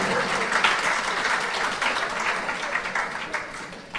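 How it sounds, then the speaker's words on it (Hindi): An audience at a Hindu religious discourse on the Satyanarayan katha claps steadily and loudly, a dense continuous applause lasting throughout with only slight swells and a small dip near the end. "हाँ ताली बजाना तो बजा लीजिए आप।"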